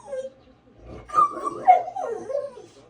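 A dog lets out a short, whiny, yelping bark that rises and wavers, heard nearby and fairly clear.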